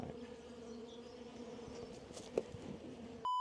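A low, steady buzz of honeybees in a dying hive with only a few bees left, humming continuously nearby, with a faint sharp click partway through.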